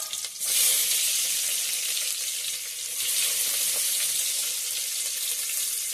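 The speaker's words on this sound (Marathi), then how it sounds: "तेल खूप तापला त्याच्यामुळे त्याचा आवाज येतो." Onions hit very hot oil and fry with a loud, steady, close sizzle that swells after a brief start and continues strongly with no talking, while a mango raita is being prepared.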